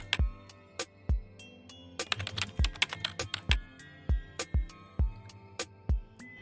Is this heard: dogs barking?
no